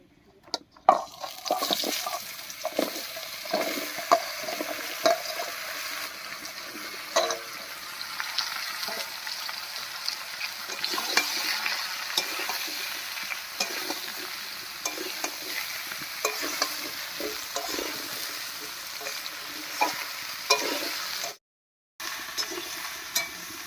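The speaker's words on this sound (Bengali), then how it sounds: "ফোড়নের উপরে লাউটা দিয়ে একটু নাড়িয়ে নিয়েছি" Chopped bottle gourd stirred in hot oil tempered with whole cumin and bay leaf: close, repeated scraping strokes over continuous frying sizzle, with a brief pause near the end.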